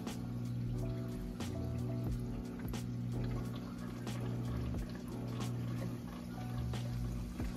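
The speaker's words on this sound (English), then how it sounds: "Make sure the water is being filled and catching up of the drainage of the salt water." Water runs steadily into a 90-gallon saltwater reef tank during a water change, a soft continuous splash and trickle with small drips over a low pump hum, fairly quiet and without talk.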